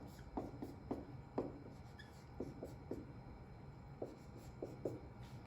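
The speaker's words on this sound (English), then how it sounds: "I'm gonna write them in right there." Pen or pencil writing math terms, a series of short faint scratching strokes in uneven bursts, about a dozen quick marks close up in a quiet room, with no talking.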